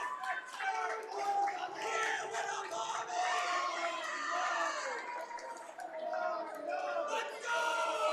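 Ice hockey crowd at a Bethpage Eagles game in the Town of Oyster Bay Supervisor's Cup cheering after a goal, a dense mix of shouts, whoops and yelling voices that surges and holds steadily close by.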